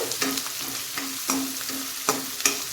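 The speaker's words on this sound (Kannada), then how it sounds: "ಈರುಳ್ಳಿ ಈಗ ಚೆನ್ನಾಗಿ ಎಣ್ಣೆಯಲ್ಲಿ ಫ್ರೈ ಆಗಬೇಕು" Chopped onion fries in oil with a constant bright sizzle, while a spoon stirs it in repeated scraping strokes roughly every half second, close and fairly quiet, no voices.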